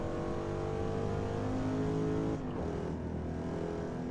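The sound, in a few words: Corvette engine driving in a racing video game, GT7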